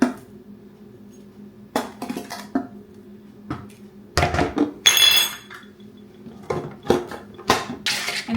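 Butter and pork rinds being mixed in a bowl, with intermittent clinks and scrapes of a utensil against the dish in bursts of stirring and some louder clatter, no talking.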